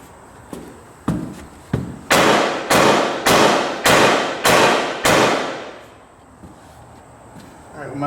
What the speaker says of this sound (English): Little tappy tap with a hammer.